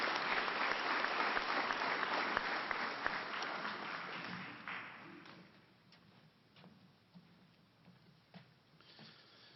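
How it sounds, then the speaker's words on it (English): An audience claps for city council candidates at a municipal election forum. The loud, dense applause lasts a few seconds, then fades into scattered claps and thin room noise. "Let's give all our candidates a hand clap for our city council positions."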